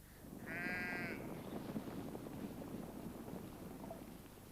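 A sheep bleats once, fairly close and clear, over a steady outdoor wind-like background on a farm, with no talk.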